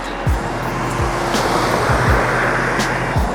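Cars speeding by at roughly 45 to 55 mph on a Los Angeles road beside a bike lane, several quick whooshing passes in steady traffic rumble, fairly close and loud.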